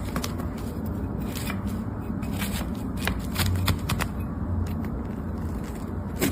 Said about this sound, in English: I'll go ahead and cut myself a slice